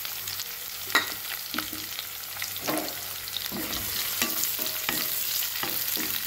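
Small shallots sautéing in a pan for paruppu urundai kulambu, a continuous sizzle broken by repeated scraping strokes of a spoon, close and fairly loud.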